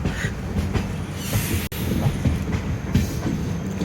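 A Secunderabad–Vasco da Gama bi-weekly express train sits at a station, its steady rumble and rail noise continuous and fairly loud, with faint clanking of wagons and a brief dropout midway.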